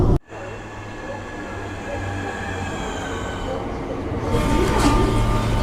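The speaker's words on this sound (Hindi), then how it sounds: "अभी अपनी ट्रेन आ गई है, ये नेशनल रेल की ट्रेन है" A National Rail train pulls into a London station, its steady low rumble and broadband wheel-and-track noise building louder toward the end, with a brief burst of nearby voice at the start.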